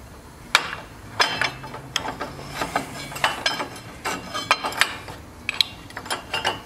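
Metal parts clank and click while a motorcycle clutch is pulled apart by hand, a string of sharp close knocks and ratcheting taps at an irregular working pace, with no voices.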